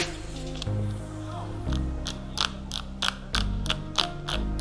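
A ratchet torque wrench tightens a 2017 Kawasaki Ninja 1000 motorcycle wheel fitting to 25 foot-pounds, giving a run of crisp, evenly spaced clicks after a few slower creaking turns, close and clear.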